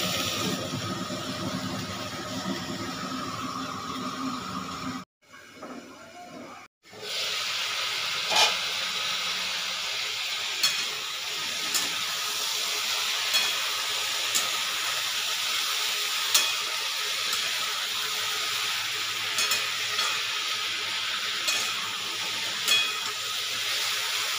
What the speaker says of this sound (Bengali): ঢেকে ঢেকে সবজিটা আমি ভেজে নিলাম।